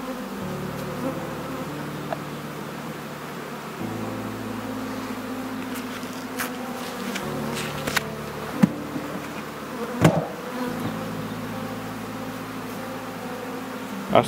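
Continuous buzzing of many honeybees at a hive in an apiary, droning close by with shifting pitch and a few louder passes and clicks.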